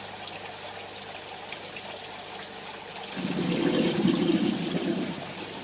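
Aquarium tank water gurgling as it empties through pipework, a low churning swell that rises midway and continues steadily to the end, close by with no talk.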